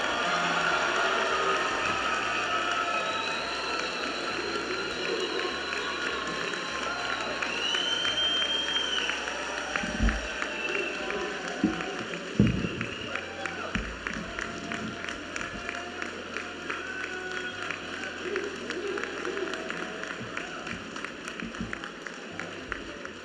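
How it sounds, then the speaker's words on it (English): Convocation audience applauds a graduate of the day, a sustained, dense wash of clapping from a large crowd that runs the whole length with a few louder claps and some cheering mixed in. "Graduate of the day, please stand and give us a loud applause for Harpreet Kaur Gill"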